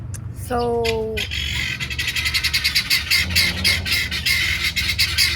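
Guinea fowl sound off in alarm, a burst of rapid, harsh, rhythmic squawking chatter that is loud and close, preceded by a brief rising call and with a voice speaking briefly near the start.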